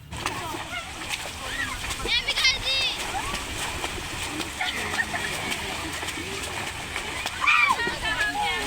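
People splashing in water while bathing during a Karma puja outing, with continuous sloshing and splatter close by, bursts of louder splashes, and voices and children's chatter mixed throughout.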